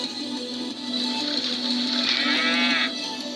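Brown cows moo in the Survival Craft video game, a long, loud, drawn-out moo heard close with a steady background hum.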